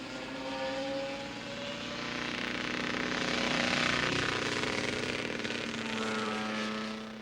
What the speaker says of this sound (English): And just listen to this very sick motorcycle.